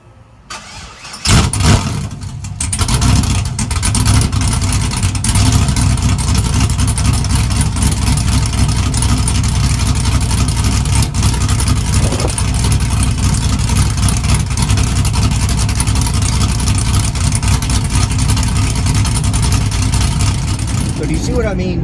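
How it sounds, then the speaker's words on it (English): A cammed LS-powered OBS truck fires up from a cold start with a loud crank and catch, then settles into a heavy, loping idle that runs steadily and close for about twenty seconds. "That might be the absolute greatest cold start LS truck video there is, period."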